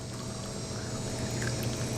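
Water poured into a metal canteen cup over three small potatoes: a steady splashing, gurgling pour that runs throughout, fairly soft and close.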